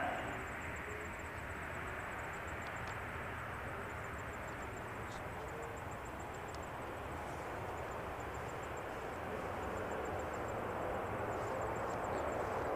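An airliner, a Boeing 787-9, makes a long floating touchdown on a runway. It gives a steady, fairly distant engine roar with broadband rushing noise that stays even throughout, alone with no talk.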